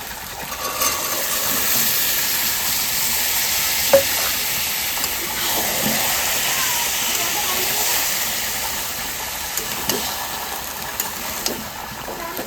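Green peas stirred into potatoes frying with spices in a pan: a continuous sizzling hiss, with scraping stirs and a few sharper clinks from a spoon, heard up close.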